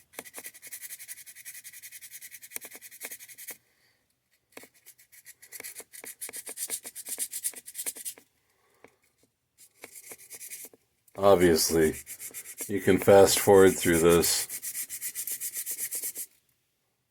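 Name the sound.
sanding stone with sandpaper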